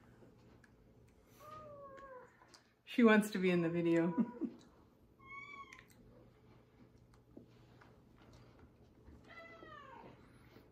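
A cat meows several times, short rising-falling calls spaced apart, with a person talking briefly in between and a low steady hum underneath.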